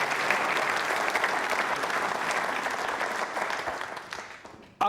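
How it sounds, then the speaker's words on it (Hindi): A crowd of trainee state civil services officers at a quiz show award ceremony gives a dense, sustained round of applause that gradually thins and fades out. "आभार प्रदर्शन के लिए तालियां एक बार जोरदार बजा लीजिए"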